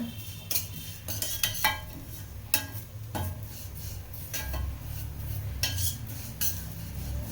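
A utensil scrapes and clinks against a pan, stirring and roasting food until golden brown, in sharp irregular strokes over a low background rumble, with no one speaking.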